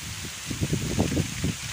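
Rain falls outdoors as a steady, close hiss, with soft irregular patters and thumps rising and falling through it; no voices are heard.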